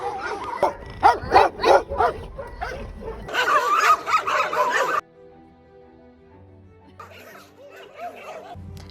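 Street dogs in Cairo bark in a quick run of loud, close yaps that then cut off abruptly, leaving a quiet tonal background with faint sounds afterward.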